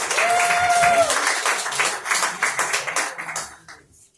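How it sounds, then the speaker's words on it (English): A comedy club audience at a Portland, Maine tavern claps loudly and continuously, then the applause thins out and fades to a few scattered claps. A voice is heard briefly near the start. "Keep clapping."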